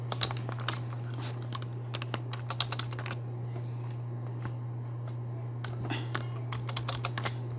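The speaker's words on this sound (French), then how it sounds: "j'appuie sur la touche majuscule, plus CTRL que je maintiens," Keys tapped on a computer keyboard while pressing the Shift+Ctrl+Z undo shortcut, a scattered series of sharp, fairly close clicks over a steady low electrical hum.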